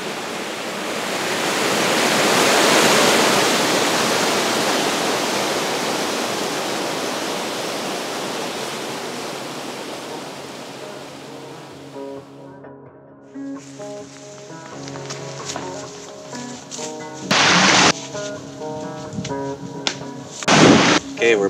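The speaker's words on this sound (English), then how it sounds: "we're about to hit the first big set of rapids" River rapids on the Spanish River during a late-fall canoe trip give a loud, broad rushing roar that builds and then fades after about twelve seconds. Tonal sounds and a few sharp thumps follow.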